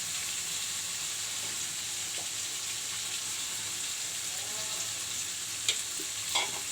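Fish, cauliflower and potato fry together in a pan with turmeric and salt. A steady sizzle runs throughout beneath stirring, with a few sharp scrapes and clinks near the end.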